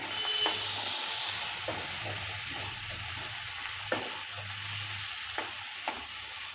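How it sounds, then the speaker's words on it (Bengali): Squash being stirred as it fries with salt and turmeric, a steady soft sizzle under scattered scrapes and clicks of the spoon against the pan. "লবণ হলুদটা দেওয়ার পর ভালো করে আবারও নেড়ে ফেলে নিচ্ছি"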